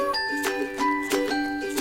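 A small bell rings with bright tinkling tones, struck about three times in an even rhythm, clear and close with sustained ringing overtones.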